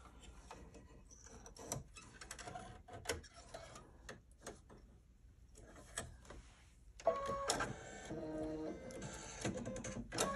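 A sewing machine stitches around vegan leather on a quilted pillow block, starting with scattered mechanical clicks and taps, then a steady louder whir of continuous stitching in the last few seconds; close, no talking.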